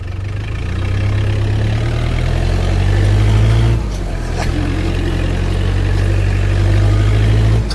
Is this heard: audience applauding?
no